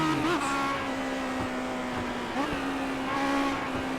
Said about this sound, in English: You can hear me getting on off the gas a little bit better with that one.